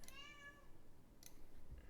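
A cat gives a short meow indoors, faint and close, followed by a second brief, higher mew a moment later against a quiet room.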